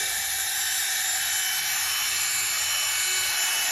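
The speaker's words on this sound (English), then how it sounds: "It's a hard sponge, and what it does, it just rubs it in even better." A hard sponge rubs polish into a Buick Grand National valve cover, making a steady, hissing scrub that runs without pause from start to end, close and fairly loud, with no talking.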